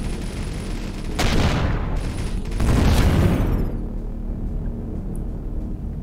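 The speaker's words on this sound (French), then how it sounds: "on voit bien que les rayguns font vraiment très mal" Raygun turrets firing in the space game Avorion, two heavy bursting blasts about a second apart, each swelling into a loud roar over a steady low rumble before fading.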